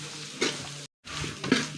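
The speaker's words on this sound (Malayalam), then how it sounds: "നന്നായിട്ടൊന്ന് ഇളക്കി കൊടുക്കാം." Roasted coconut with chili, coriander and turmeric powders being stirred in a pan for a beef curry: scraping strokes over a steady sizzle, broken by a brief moment of silence.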